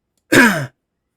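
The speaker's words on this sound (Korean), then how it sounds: "제가 기관지가 좀 약해서 말을 많이 하면 기침이 나옵니다" A man with weak bronchi, who says talking a lot makes him cough, gives a single short, harsh cough up close, with silence before and after.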